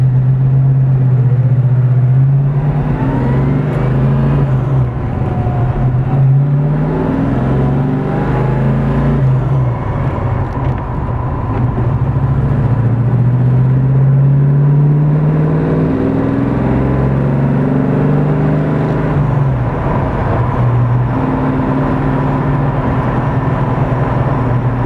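A 1971 Plymouth Cuda with a five-speed manual revs loudly and continuously from close inside, its engine note rising and dropping with each gear shift from first through fourth, with no talk over it.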